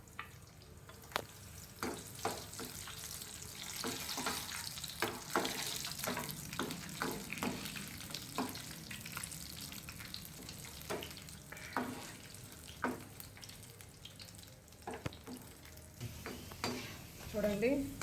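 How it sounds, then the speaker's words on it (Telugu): Raisins deep frying in hot oil for a chicken machboos rice dish, heard as a faint bubbling sizzle broken by repeated scraping and clinks of a utensil against the pan. "ఇప్పుడు ఎండు ద్రాక్ష ఉన్నాయి కదా, డ్రై ఫ్రూట్స్, ఇవి మనం ఆయిల్లో డీప్ ఫ్రై చేసి రైస్ మీద వేసుకోవాలి."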